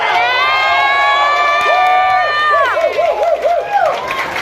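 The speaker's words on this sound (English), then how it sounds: "Big round of applause." A crowd of participants at a vampire live-action roleplay night in Melbourne cheers and whoops loudly, with sustained shouted voices and rising and falling yells.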